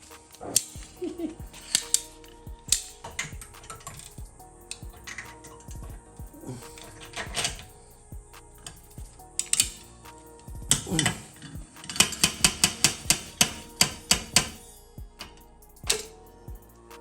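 A modified slide hammer clamps onto and pulls dents from a metal panel, giving sharp metallic clicks and snaps scattered throughout, then a quick rapid series of strikes near the end.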